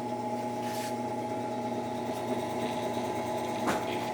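VEVOR 8-inch drill press running with a warped, wobbling bit, giving a steady motor hum with tonal whine under a brief higher scrape near the end, continuous and close.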